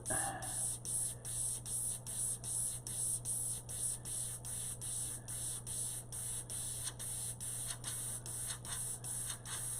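An airbrush sprays paint onto bio-mech artwork in a steady, close hiss that pulses rhythmically about twice a second over a constant low hum.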